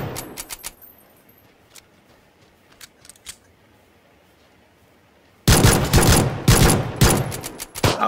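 PlayerUnknown's Battlegrounds gunfire opens with several sharp separate shots and then breaks into a loud, sustained burst of rapid fire lasting several seconds.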